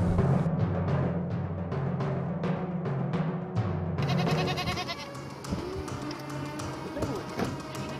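Cashmere goats bleat in short, repeated cries on the Mongolian steppe, over a busy outdoor scene with steady background noise and some tapping sounds.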